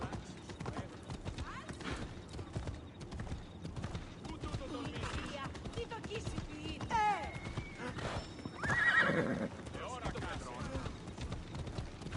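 Hooves clop steadily in a galloping rhythm while a horse neighs once or twice in the video game Assassin's Creed Odyssey, with a voice speaking over the action.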